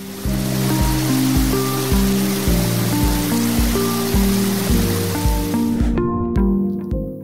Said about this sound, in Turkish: Denizli Güney Şelalesi hem macera hem de doğa severler için kaçırılmayacak bir yer.